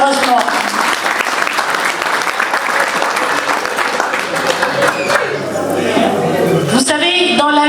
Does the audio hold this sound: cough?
no